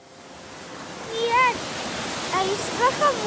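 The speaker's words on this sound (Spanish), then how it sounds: "desde allí se ve todo el río bajando" River water rushing downstream through the snowy Sierra de Madrid near Rascafría, a steady broad roar with voices talking over it.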